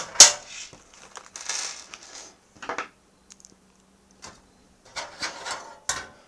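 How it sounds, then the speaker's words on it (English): Screws being driven into an AAAwave Sluice V2 crypto mining rig frame, heard as short close-up bursts of mechanical ratcheting and scraping separated by brief pauses. "So get some screws and then we'll start screwing this in."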